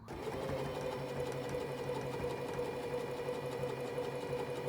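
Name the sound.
sewing machine top-stitching skate covers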